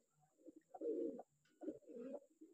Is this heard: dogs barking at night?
no